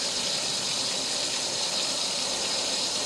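Water running steadily into a swamp cooler's reservoir, giving a continuous, even hiss and splash that stays close and constant throughout with no voices.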